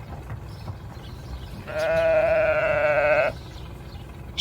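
A single sheep bleats once, loud and close, a drawn-out wavering call lasting over a second that stands out against a low background hum.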